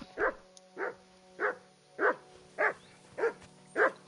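A hurt dog in the video game Kingdom Come Deliverance 2 gives seven evenly spaced, close whimpering yelps, regular and fairly loud, with no talking over them.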